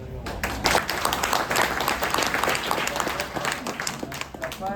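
Applause from a crowd at a religious discourse in Hubballi: brisk, uneven clapping by a modest number of people, close and fairly loud, with sharp individual claps, holding across the few seconds before thinning slightly.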